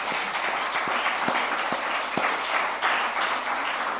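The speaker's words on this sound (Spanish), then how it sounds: "Dale un aplauso a eso, por favor" A church audience breaks into lively applause, a dense, continuous clatter of many hands with a few sharper individual claps standing out, fairly loud and free of talking.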